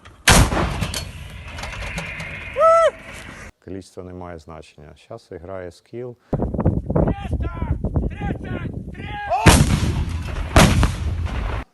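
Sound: artillery fire

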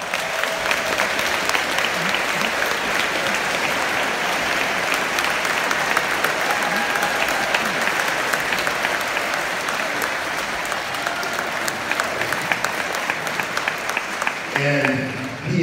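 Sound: applause

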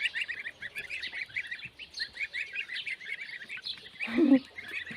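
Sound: goslings chirping

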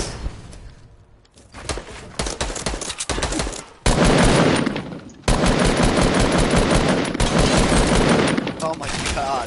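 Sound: gunfire from the video game Fortnite

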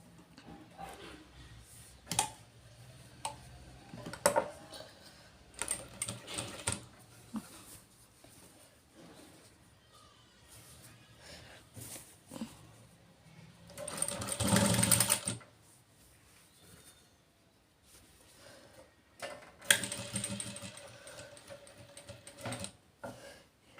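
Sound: sewing machine stitching piping on a blouse

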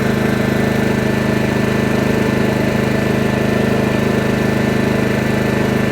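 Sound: Champion dual-fuel generator running on gas

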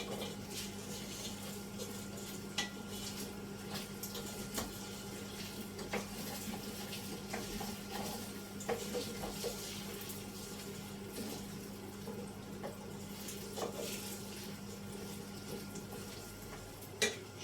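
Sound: hot water poured onto toasted rice

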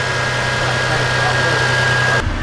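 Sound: truck engine idling after radiator change

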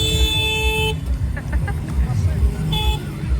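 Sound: go-kart horn honking

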